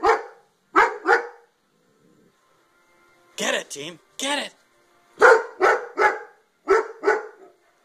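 A Halloween dog skeleton decoration lets out a short run of electronic barks mid-clip, while a person nearby urges someone on before and after the barking.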